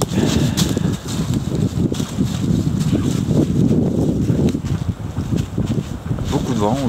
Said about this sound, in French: Beaucoup de vent aujourd'hui.